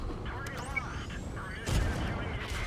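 Tank cannon fire booms out in a tank battle video game, with a heavier blast near the end over a continuous busy rumble of the battlefield; a voice talks over it.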